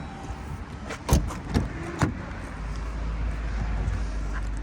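A 2021 Jeep Grand Cherokee L Laredo unlocks with a few sharp clicks and clunks in quick succession, followed by a low steady hum.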